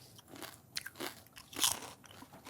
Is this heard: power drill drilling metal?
no